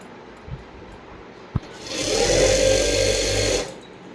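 A sewing machine stitches two folded fabric ends together, starting after a couple of faint clicks and running in a steady, close, even whir for about a second and a half before stopping.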